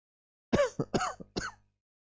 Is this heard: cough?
yes